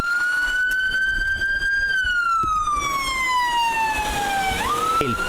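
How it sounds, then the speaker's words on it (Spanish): Ambulance siren wailing loud and close, its pitch sliding downward as the vehicle passes on a city street, with traffic rumble underneath and no talk. "El paso de ambulancias aumenta"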